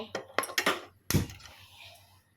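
A metal kadai pan is picked up and set down for cooking tomato rice, giving several sharp clanks and knocks close by, with one heavier thud followed by a fading ring.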